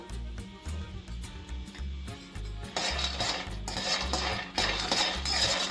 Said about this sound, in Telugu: పల్లీలు తీసుకొని ఫ్రై చేసుకుంటున్నాను